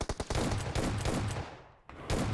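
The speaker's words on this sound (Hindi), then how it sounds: "ये नीला ड्रैगन हम पे फायर देता है" Rapid bursts of gunfire ring out in a PUBG match, several quick shots in a row, then a short lull before another volley. No voices are heard.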